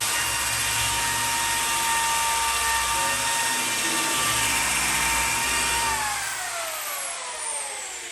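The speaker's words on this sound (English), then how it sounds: "I've been trying to grind off the surface rust on top of this tank" A power grinder scrapes surface rust off the top of a 1987 Chevy G20 van's gas tank: a loud, steady, harsh whine close by for about six seconds, then the motor's pitch sags as it winds down.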